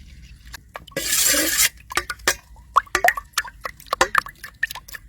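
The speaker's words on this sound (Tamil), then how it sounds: "நல்லா கலந்து விட்டுக்கோங்க. அந்த பாலும் அந்த முட்டையும் வந்து நல்லா மிக்ஸ் ஆகணும்." A milk and egg mixture for vatalappam being stirred in a bowl, with a short pouring rush followed by a run of quick, irregular utensil clinks and taps against the vessel, close and clear.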